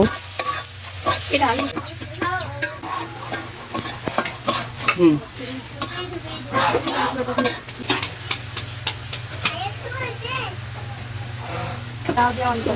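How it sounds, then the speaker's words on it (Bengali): Chopped onions sizzle and crackle in a hot pan on an earthen stove as they fry to brown, with frequent scraping stirs of a spatula, while a voice talks faintly in the background. "এখন পেঁয়াজগুলোকে আমি বাদামি করে ভেজে নিব"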